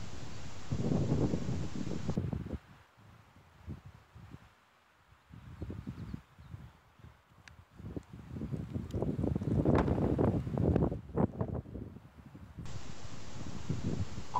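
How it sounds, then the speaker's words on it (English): Strong gusting wind buffets the microphone during a DJI Ryze Tello drone flight, with loud rushing bursts that drop away briefly in the middle and then return, alongside a faint steady whine. "This is an extreme wind flight."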